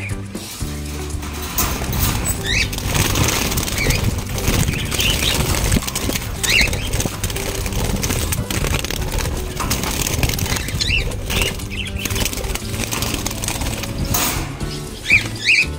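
Pet parakeets flap their wings in bursts as they are caught by hand, a close, fluttering patter with scuffling and small knocks continuing throughout.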